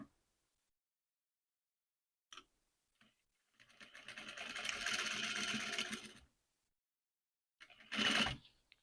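A sewing machine stitches a zipper onto a self-welt pillow, with a few faint clicks, then one steady run of close, whirring stitching for about three seconds, followed by a short final burst.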